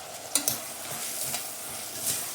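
Onion and tomato fry with turmeric in a pan, giving a steady close sizzle with a few light taps and scrapes of a spoon stirring through it.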